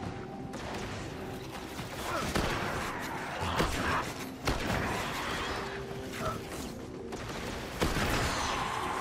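Hand cannon gunfire in the video game Destiny, a few sharp single shots spaced apart over ongoing game noise at moderate level.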